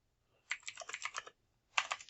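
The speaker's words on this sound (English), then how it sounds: "Clearly I can't type tonight." Computer keys clatter in two short close bursts of typing, a rapid run of clicks followed by a pause and a second quick flurry, quiet and alone.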